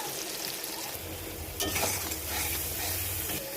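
Salt, chili powder and turmeric powder sizzle in hot oil in a pan while being stirred, a steady close frying hiss with scraping strokes and a brief louder stir partway through.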